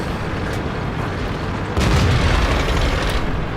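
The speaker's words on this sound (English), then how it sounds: "Unfortunately, I shoot over his head." A tank gun firing in a tank video game, one heavy boom partway through that swells into a loud rumbling blast over a constant background roar of engine and battle noise.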